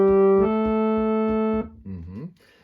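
Organ playing a two-part counterpoint on the Psalm 68 tune, sustained tones moving in steady notes with a softer lower line, loud and close, followed by a short spoken moment near the end.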